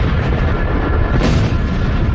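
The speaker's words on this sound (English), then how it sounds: "the fireball entered our atmosphere and violently exploded above Siberia's" A fireball exploding above the Tunguska forest in Siberia: a deep, sustained rumbling roar with a brief sharper burst partway through, loud and continuous, with no voices.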